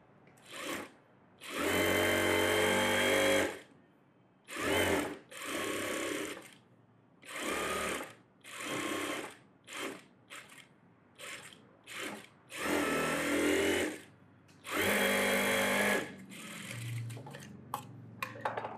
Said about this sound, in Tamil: இப்போ சுற்றி தையல் போட்டுடலாம்